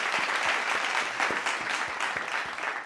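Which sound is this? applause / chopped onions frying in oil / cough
applause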